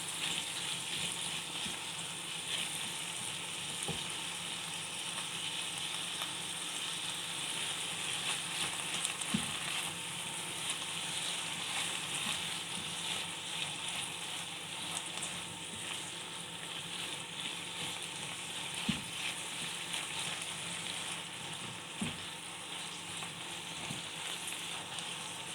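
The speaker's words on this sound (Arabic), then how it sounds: "نشوح فيها كده." Food with a pinch of salt sautéing in a pan, a steady close sizzle and crackle running throughout with a few faint scrapes and taps from stirring.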